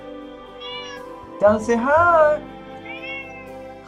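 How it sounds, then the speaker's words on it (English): A small pet cat named Donald meows in a drawn-out, rising-and-falling call, close and fairly loud, while a voice speaks softly around it. "It's my little cat"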